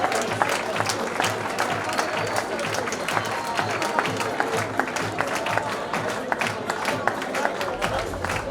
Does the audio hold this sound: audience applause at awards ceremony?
yes